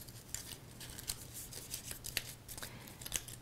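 Small paper tabs on a graduation-day papercraft kit are folded over by hand, making a rapid series of soft, crisp crinkles and creases, faint and close, with no talking.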